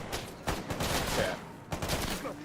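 Dense, rapid gunfire in the video game S.T.A.L.K.E.R. GAMMA, loud and continuous bursts of shots with a brief lull before resuming.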